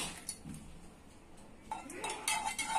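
An egg being beaten into warm brownie batter in a bowl, faint scraping and a few clinks of a spoon against the bowl, growing busier and louder toward the end.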